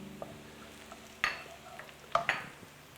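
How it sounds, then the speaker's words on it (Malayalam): Fried onions are tipped into golden shallots frying in a pan for a squid roast, a faint sizzle broken by a few sharp spoon clicks and stirring scrapes. "അതിലേക്ക് നമ്മൾ ഫ്രൈ ചെയ്ത് വെച്ചിരിക്കുന്ന സവോള ഇട്ട് കൊടുക്കുക"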